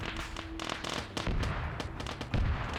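Artillery fire in an Arma military video game operation: a dense run of sharp blasts and crackling impacts, with heavier booms near the middle and the end, loud and continuous with no talk.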